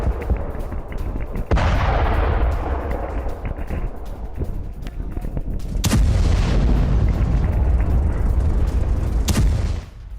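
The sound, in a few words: IED explosions destroying Hezbollah tunnel network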